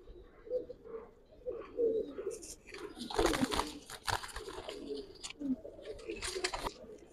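Giribaz pigeons coo repeatedly in a pigeon shop in Old Dhaka, soft rounded calls close by with some rustling and brief shuffling noises between them.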